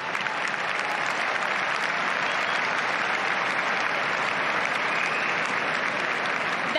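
A tennis crowd at the French Open applauds Iga Swiatek after her first-round win, a dense, steady roar of clapping that holds evenly throughout with no break.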